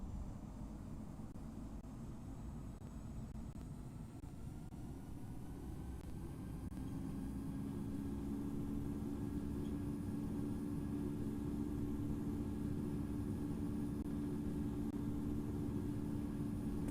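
An airliner in the Infinite Flight simulator game rolls down the runway for takeoff from Washington Dulles. A faint, steady jet engine roar carries rising whining tones as it builds speed, and no voices are heard.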